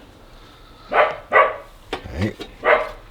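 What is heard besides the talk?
dog barking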